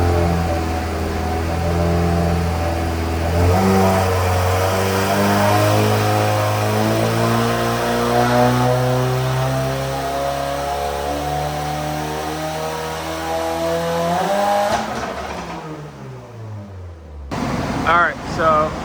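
A 2024 Subaru WRX VB engine revs hard on a dyno in a tuning session with a custom map, its loud rising drone climbing steadily before dropping away sharply near the end, with people talking over it.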